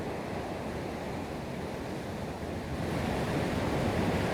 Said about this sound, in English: bloody wave coming in out there